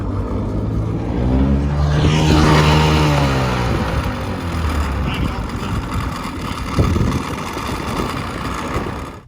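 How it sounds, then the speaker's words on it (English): A 2-stroke 50 outboard motor runs loud and steady, its pitch sweeping up then settling, with a loose plastic cover piece rattling over the engine drone; a voice speaks over parts of it. "The noise, the rattling that you're hearing is the little plastic piece that says 50 on the motor cover."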